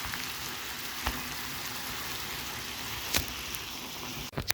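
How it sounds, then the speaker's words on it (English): Omena fish fry in a pan with a continuous crackling sizzle close up, broken by a few sharp clinks and stirring knocks, the last near the end. "then we fry the omena"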